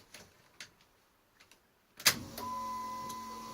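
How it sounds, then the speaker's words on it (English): A Dodge Ram 5.7 Hemi fuel pump starts after the ignition is cycled, a sudden click followed by a steady, quiet electric hum with a thin whine that persists. Faint ticks come before it. "Hear the fuel pump started there."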